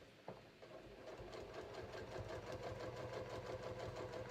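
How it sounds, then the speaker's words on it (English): A sewing machine stitches steadily along a shorts pocket seam, a close, continuous motor whir with a fast needle rhythm after a brief start. "All right, so I'm just going to sew along."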